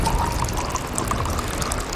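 Hot water poured from an Atomy thermal tumbler into an Atomy potato cup ramen, making a steady, close liquid splash and trickle that runs continuously for about two seconds with no talking.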